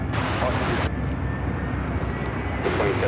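An American Airlines Airbus A319 arriving at Chicago O'Hare, a steady broadband roar of the jet approaching, loud and continuous throughout.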